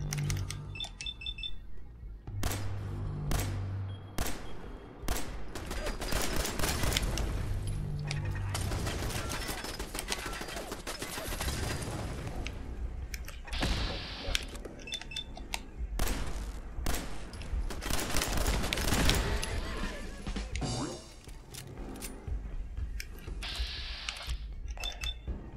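Gunfire in the video game Fallout 4 comes as repeated sharp shots and bursts mixed with clicking weapon mechanisms, loud and close, in uneven clusters across the stretch with no talk.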